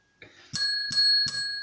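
A ring-for-service bell dings three times at a steady pace, loud and close, each bright metallic strike ringing on into the next, after a brief faint tone at the start.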